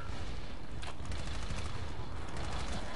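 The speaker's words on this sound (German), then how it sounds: "Ich hab ihn abgeknallt." Rapid gunfire from the video game Battlefield Play4Free, a dense, sustained burst of shots and clatter running steadily throughout at fairly constant loudness with no talk over it.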